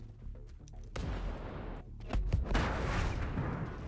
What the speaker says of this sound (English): let's go ahead and blow the truck and get out of here